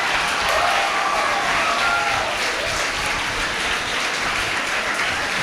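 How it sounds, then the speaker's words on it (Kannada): A standing crowd of children and adults at a lecture event claps loudly and steadily. The applause fills the whole stretch as a dense, even roar with no pauses. "ಎಷ್ಟು ಜೋರು ಸಾಧ್ಯವೋ ಜೋರು ಚಪ್ಪಾಳೆ ಕೊಟ್ಟು ಬಿಡಿ."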